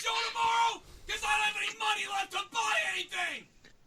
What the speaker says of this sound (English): Just listen to Joe screaming in the background.